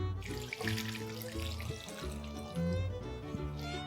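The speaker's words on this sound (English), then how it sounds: "So now I'm just going to drain out all the water." Soaking water drains from softened rice flat noodles, a steady splashing gush of running water close by, continuous for several seconds with no voices.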